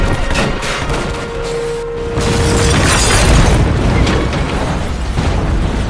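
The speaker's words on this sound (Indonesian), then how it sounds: "Ia menembaki tabung gas yang membuat pondok itu seketika hancur." A gas cylinder explodes and destroys a hut: a loud, rumbling blast with crackling bursts and debris-like noise rolls on for several seconds, heavy low-end boom swelling midway.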